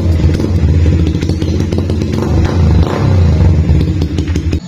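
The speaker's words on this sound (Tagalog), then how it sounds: "Race type na tube type. So maliit lang yung tip. Pero napakaingay." Motorcycle with a race-type tube exhaust pipe and a small tip, engine roaring loudly and revving close by in a steady, throbbing drone for several seconds.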